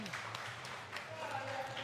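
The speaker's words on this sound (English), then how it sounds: "Well-deserved enthusiastic applause from his team and from his opponents." Enthusiastic applause from skittles teams after a strong throw in a pub skittles match, a dense steady wash of clapping from a small crowd, fairly close, with voices murmuring underneath.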